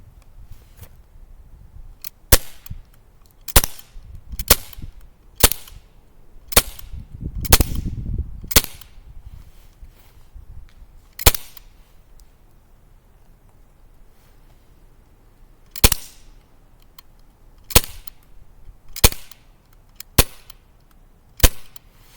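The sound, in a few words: Glock 19 airsoft pistol shooting on blowback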